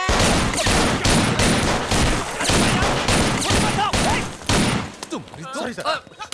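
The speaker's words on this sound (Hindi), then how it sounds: "गिनती किए बिना ढिशक्याओ गोली चलाएंगे सर" Rapid bursts of gunfire in a film action scene, loud and dense with repeated volleys and crashes, then thinning into scattered shots and echoes near the end, with voices mixed in.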